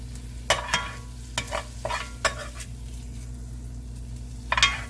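Cooked meat is scooped out of a skillet, with soft sizzling under a series of scraping, stirring strokes of a utensil against the pan, irregular and close.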